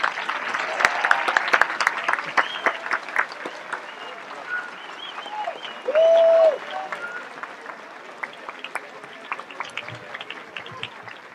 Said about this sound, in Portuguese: Uma salva de palmas aí para o Ciro.